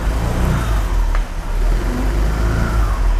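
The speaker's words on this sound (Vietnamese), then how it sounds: "Nổ máy thử cho nghe luôn nha. Đó, tiếng máy của chiếc này thì đi rất là êm." A 2017 Honda SH Mode scooter engine runs steadily at idle, giving a smooth, even low hum that stays close and constant throughout.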